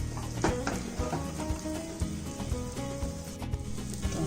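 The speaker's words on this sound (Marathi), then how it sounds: "ऑमलेट जरा असं फिरवायचं आहे पॅनच्या पॅनमध्ये, म्हणजे जरा व्यवस्थित होतं." A Spanish omelette sizzling in a pan as it is swirled around, a steady frying hiss with soft rhythmic knocks and scrapes of the pan recurring about every half second, close and alone.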